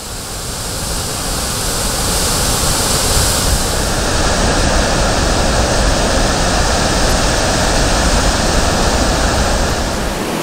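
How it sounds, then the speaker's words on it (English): Powerful waterfalls in a Norwegian fjord near Geiranger pour down in a steady, loud, broadband roar that rises slightly in the first seconds and then holds constant and unbroken. "The roar of the waterfalls being their victory shout."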